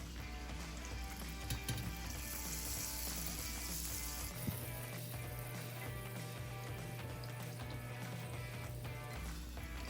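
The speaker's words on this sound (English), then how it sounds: "And it's ready to be fried, so make sure your oil is on medium heat, not high." Ariselu dough frying in medium-heat oil, a faint continuous sizzle with soft crackles and a low steady hum throughout, no talking.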